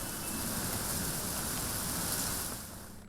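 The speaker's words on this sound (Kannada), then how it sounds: "ಒಟ್ಟಾರೆ ಉದ್ಯಾನ ನಗರಿ ಫುಲ್ ಮಳೆಯಿಂದ ತುಂಬಿರುವಂಥದ್ದು" Heavy rain pours over Bangalore city streets, a steady, fairly soft hiss of falling water that holds even and then eases slightly near the end, with no one talking.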